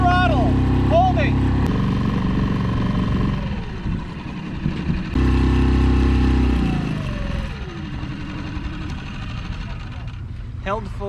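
A 6 hp Yamaha outboard motor drones nearby at full throttle, its steady engine note rising and dipping while someone talks over it throughout.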